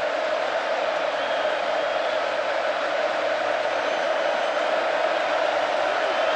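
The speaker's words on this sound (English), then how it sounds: "Crowd making it difficult again for the Alabama quarterback and front wall." Stadium crowd at an Alabama versus Texas A&M college football game, a dense, steady roar of many voices sustained at full volume throughout, loud enough to disrupt the offense.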